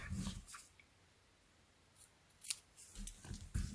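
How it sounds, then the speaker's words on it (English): Scissors snip through paper card stock while a Stampin' Up! Easter double Z-fold wiper card is trimmed. Close, crisp cutting bursts come at the start and again near the end, with a quiet pause between. "So I'm going to have the scissors do it instead."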